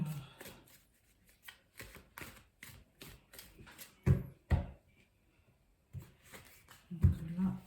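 A deck of oracle cards being shuffled and cut by hand, with quick clustered riffles and flicks, a few sharp taps as the deck settles, and brief quiet gaps between bursts, close and fairly soft.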